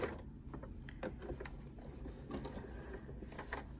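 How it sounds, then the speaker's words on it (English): A sewing machine finishes a quilt seam and backstitches, giving quiet mechanical whirring with soft rhythmic ticks and clicks, faint and close, with no talking. "I'm going to finish this seam, backstitch it"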